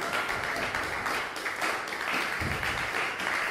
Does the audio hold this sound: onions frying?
no